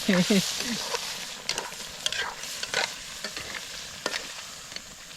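Crab stirred and frying in a pan, a sizzling hiss broken by repeated scraping strokes of a spatula, with a brief voice at the start.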